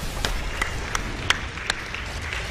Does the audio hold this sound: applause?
yes